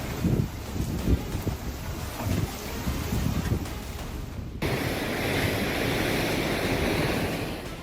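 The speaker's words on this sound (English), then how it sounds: "Amid the surging waves of the Sudesteta, a seaside house collapsed into the ocean" Surging ocean waves pound the seashore under strong wind, a loud continuous wash of surf and microphone wind buffeting that shifts abruptly midway to a steadier, hissing roar of water.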